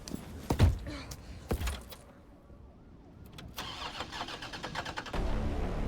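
A car engine in Resident Evil 3 Remake cranks with a few heavy thumps, goes quiet, then catches and settles into a steady running rumble that builds louder toward the end.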